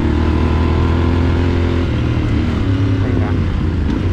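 A motorcycle engine runs steadily up close, a loud low throbbing drone that holds through the whole stretch with slight swells in pitch.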